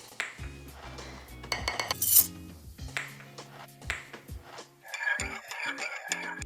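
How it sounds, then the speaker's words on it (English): A spoon clinks and scrapes around a mug while egg, melted butter and baking powder are mixed into batter, giving a string of irregular close ceramic taps and clatters. "Let's mix all our ingredients here into the mug."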